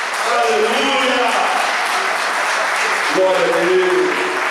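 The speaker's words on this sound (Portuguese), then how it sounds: "aplauda o Senhor" Applause from a church congregation at an Easter Sunday evening service, a steady broadband wash of clapping that runs throughout, mixed with voices speaking and calling out over it.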